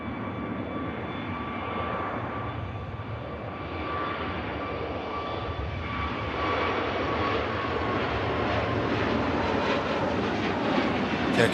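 Turkish airliner jet climbing out after takeoff from Manchester Airport, a steady distant engine roar that swells slightly louder over the closing seconds, heard alone.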